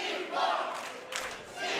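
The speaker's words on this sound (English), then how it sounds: "The crowd trying to will C4 back into this matchup." A wrestling crowd in an indoor cultural-center hall roars and cheers for C4 during a tag-team match, a continuous loud wash of voices that swells slightly midway.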